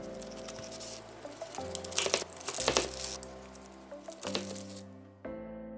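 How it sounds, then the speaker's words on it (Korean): A knife crunches and squishes through a crisp crumbly baked apple crumble in short crackling bursts over a steady low hum of background music. "먹을 만큼 적당한 크기로 잘라서"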